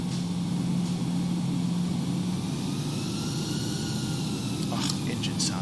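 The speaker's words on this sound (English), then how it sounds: "Oh, engine sound is nice." Airbus A321 jet engines in X-Plane with the FTSim sound pack, taxiing: a steady, loud low rumble and broad whine held throughout, with a faint tonal hum early on and brief clicks near the end.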